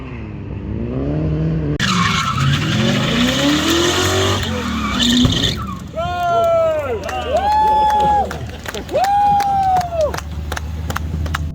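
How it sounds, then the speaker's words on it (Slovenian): Rally cars sliding and drifting at a rally-versus-drift demo day, with loud engines revving and tyres squealing in long rising and falling screeches, nearby and continuous, with crowd noise faintly underneath. "tudi sami začeli poskušati drseti z avtomobilom"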